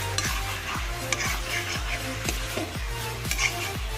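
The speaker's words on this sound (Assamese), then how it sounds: "মাংসটো অলপ লাগি ধৰিছে, তো গেছটো অলপ চিমত দি দিব লাগিব" Meat stir-frying in a hot wok over a gas flame, a loud steady sizzle broken by a regular series of scraping stirs, about one every half second, close up with no voices.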